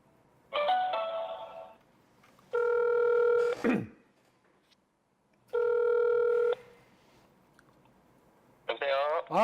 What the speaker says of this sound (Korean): 한번 전화를 한번 걸어보도록 하겠습니다.